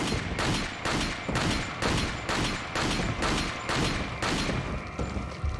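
Gunfire in Resident Evil 4 on the Wii, a loud sustained volley of shots in regular rhythmic bursts roughly every half second, dense and close throughout with no talking.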